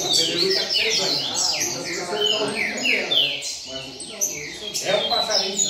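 Caged songbirds, coleiro and papa-capim, chirp and trill busily in quick overlapping bursts, loud and close, with a faint murmur of voices underneath.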